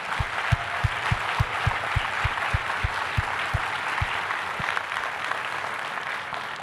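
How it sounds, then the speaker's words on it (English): An audience at a closing keynote gives a round of applause for hotel staff, steady clapping with a few sharp distinct claps standing out early, tapering off toward the end. "a round of applause for everyone from Lowe's Hotel"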